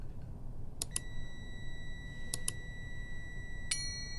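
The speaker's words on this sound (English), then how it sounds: "That it is beeping." Three short pairs of electronic beeps from a multimeter continuity test on a three-phase submersible pump motor's windings, a crisp high tone repeating at irregular intervals over a low steady hum.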